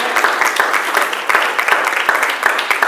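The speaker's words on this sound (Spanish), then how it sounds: "Un aplauso para mi hermano." A church congregation applauds together in a steady, dense patter of many hands clapping, close and loud throughout, with a voice faintly mixed in.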